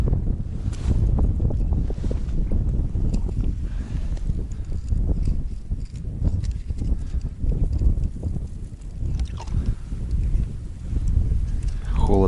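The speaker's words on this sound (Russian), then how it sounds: "Холодно, ветер дует." Wind gusting steadily across open river ice on a cold day during early-season ice fishing, a continuous low rumbling roar buffeting the microphone throughout with brief lulls, some clattering handling noise mixed in.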